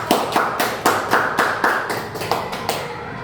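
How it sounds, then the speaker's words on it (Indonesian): A small group claps in rhythmic unison for a school principal at a primary school event, about a dozen loud, evenly spaced beats close by with no talking. "Tepuk tangan untuk Ibu Kepala Sekolah."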